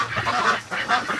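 Waterfowl in a barn during extreme cold (-33°C) give a run of overlapping honking quacks, loud and close, with no speech.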